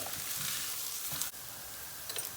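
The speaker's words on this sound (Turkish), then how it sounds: "Pirinci birbirine yapışana kadar kavuracağız." Soaked rice for açık dolma toasts in a dry pan before any butter is added, giving a continuous dense sizzle with a single sharp click partway through and no voices.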